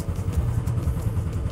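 Tank's 40-liter engine running, a close, steady low throbbing rumble with a fast, even pulse.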